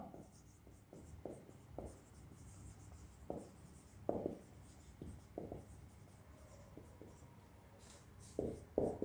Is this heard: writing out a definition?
yes